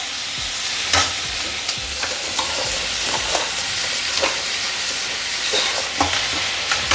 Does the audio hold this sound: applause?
no